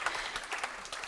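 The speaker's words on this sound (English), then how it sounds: "I love it when you get a random impromptu round of applause" Audience at a tech conference breaks into a brief, quiet patter of applause, many scattered claps heard from a distance.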